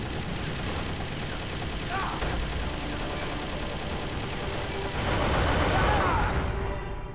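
Gunfire aimed at a car's tires in Metal Gear Solid: The Twin Snakes, a dense, continuous wash of shooting and mechanical game noise that swells toward the end, with talking mixed in.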